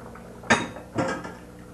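A large frying pan is lifted out and handled in a home kitchen, giving two quick metallic clanks about half a second apart, followed by a faint rattle, fairly quiet with no voices.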